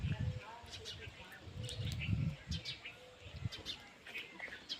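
Pigeons coo in low, repeated bursts close by, with sharp bird chirps and tweets scattered over a steady outdoor background.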